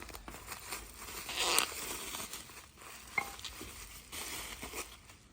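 Blade cutting open a cardboard and plastic package holding a Subaru WRX STI S209 lateral link set, faint close scraping and crinkling with short tearing rustles, no talk.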